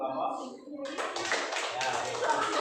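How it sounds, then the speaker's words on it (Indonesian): A class group is applauded with a burst of clapping that begins about a second in and continues steadily, with some speech-like voices mixed in. "Tepuk tangan untuk kelompok."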